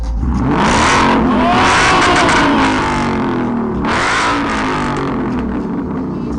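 A 2015 Ford Mustang GT engine revs hard from close behind the tail end, roaring loudly in two long surges with a brief dip between, and no talk over it.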